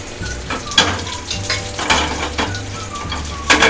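Black cumin seeds frying in hot oil for a light fish curry, a crackling sizzle broken by repeated utensil scrapes and clinks against the pan, close and fairly loud.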